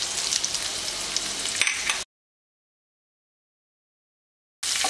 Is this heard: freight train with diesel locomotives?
no